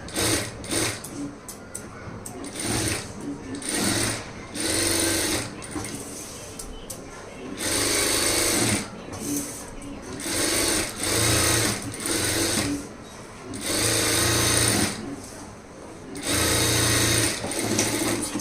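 A sewing machine stitches an Aari work blouse in repeated loud bursts with short pauses between them, while a voice talks quietly in the background.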